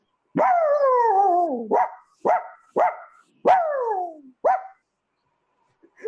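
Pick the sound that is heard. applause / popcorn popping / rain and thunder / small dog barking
small dog barking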